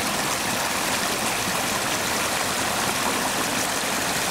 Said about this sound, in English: it's so soothing to hear this sound of water